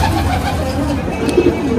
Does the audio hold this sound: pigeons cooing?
yes